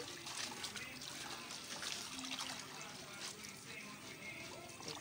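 Oil bean seeds being processed for ugba are washed by hand in water, producing continuous sloshing, splashing and trickling at close range, with a voice talking faintly underneath.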